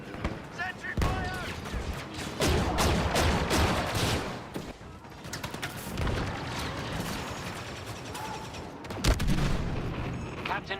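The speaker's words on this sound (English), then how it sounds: "Sentry fire!" Sentry gun fire in Star Wars Battlefront 2, a loud, sustained chatter of automatic shots and booming impacts through the whole stretch, with a few heavier blasts standing out; in-game voices talk over the battle.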